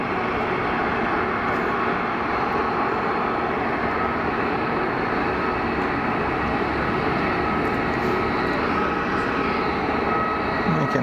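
A Bombardier jet taxiing out at Geneva airport makes a steady, loud engine rumble with a sustained whine. The sound is continuous and near, with no voices.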